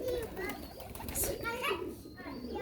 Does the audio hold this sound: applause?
no